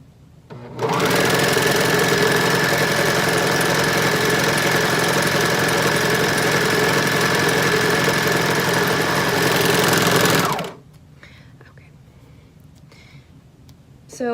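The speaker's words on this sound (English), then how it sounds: "I'm going to go ahead and sew this back center seam." A sewing machine stitches the back center seam of a skirt waistband in one steady, loud run of about ten seconds with an even mechanical whir. It then stops, leaving quiet handling noise.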